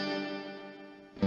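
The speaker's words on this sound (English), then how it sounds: "Here's the reverb at 12 o'clock." A sustained guitar chord rings through a CoolMusic BP-MINI multi-effects pedal with its reverb set at 12 o'clock, the tone washing out into a springy tail before a fresh strum bursts in near the end.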